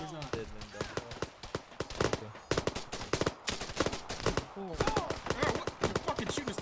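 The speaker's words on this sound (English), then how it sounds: "shooting us through the goddamn building now" Rapid bursts of automatic gunfire crack close and loud in a military shooter game set around a building, firing in quick volleys with short pauses, and voices talk between the shots.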